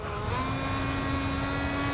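A race car from Grid Autosport holds a steady, loud high-pitched engine drone through an Indy 500 practice lap, with no talk over it.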